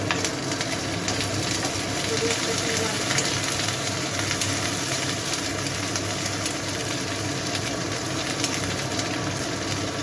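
Prawns and kochu saag fry on a hot tawa, giving a loud, steady sizzle that runs unbroken for the whole stretch with no talking.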